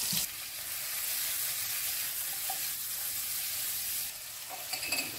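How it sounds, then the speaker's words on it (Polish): Sausage and onion fry in a pan, giving a loud, steady, close sizzle with crackling. Brief stirring clatters come near the end. "jak kiełbasa już się lekko podsmażyła, dokładam cebulę. I teraz muszę cebulę zeszklić"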